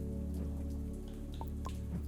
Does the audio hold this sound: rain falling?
yes